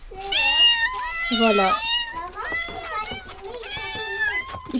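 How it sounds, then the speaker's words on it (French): Several cats meowing in a home garden, a string of close, repeated high meows one after another, with a voice speaking briefly among them. "Là il y a 6 chats."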